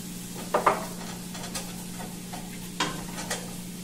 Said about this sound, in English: Stir it around. And then you're going to add the butter.